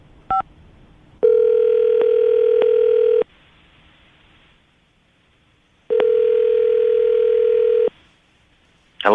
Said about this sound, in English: I'm about to dial the phone number right now, get him on the phone